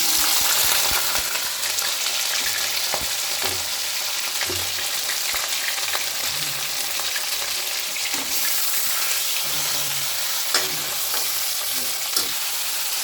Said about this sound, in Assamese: তেল একনে দিছো বহুত কমকে দিছো আৰু এতিয়া দি দিও জিৰা ইয়াত তাৰ পিছত ইয়াতে দি দিও এতিয়া মাংসখিনি